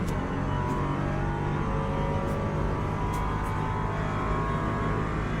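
LMP3 prototype race car engine in the Le Mans Ultimate game, a continuous loud droning roar with layered harmonics and steady low rumble, held near and constant with no pauses.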